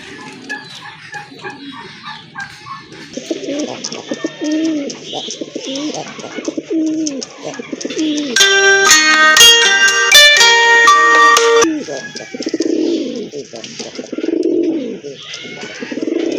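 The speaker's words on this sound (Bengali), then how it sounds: "দেখেন আরেক জোড়া বড় পায়রা" Large pigeons coo repeatedly in low, throaty rolls while other fowl cluck nearby, and a bright, shrill tonal chirping bursts out briefly in the middle.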